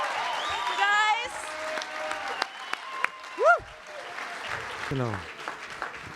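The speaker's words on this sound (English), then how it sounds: "How about another round of applause for these wonderful, wonderful, deep treble." Audience applause and cheering after a musical performance, a dense wash of clapping with whoops and whistling cries rising over it, and a brief voice speaking near the end.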